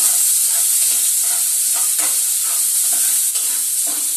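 Chopped onion frying in hot oil in a pan, a steady close sizzle and hiss with light stirring scrapes throughout.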